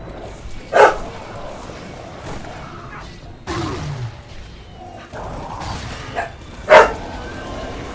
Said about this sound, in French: Le jour où il n'y a pas d'aboiement de chiens sur mes vidéos,